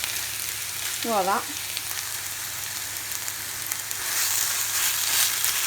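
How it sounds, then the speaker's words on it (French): Minced meat and green pepper sizzle in a frying pan with a steady, close hiss throughout that swells toward the end, while a brief voice speaks early on. "Après avoir mis mon poivron, je vais mettre ma viande hachée."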